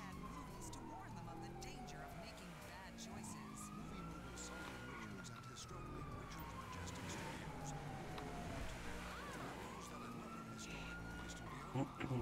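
Police car sirens in GTA 5 wail continuously with rising and falling sweeps, loud and close over engine and game noise, while someone talks throughout.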